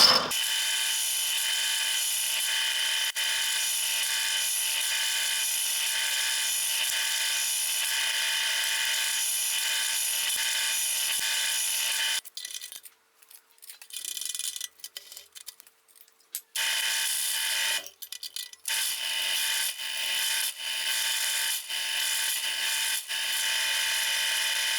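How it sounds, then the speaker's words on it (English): An electric drill bores 10mm holes in aluminium dice pieces clamped against a wood block, giving a bright, continuous high whine that stops and restarts in short bursts partway through. "I'm going to drill all these now. I think I'm just going to do a 10mm hole in all of them."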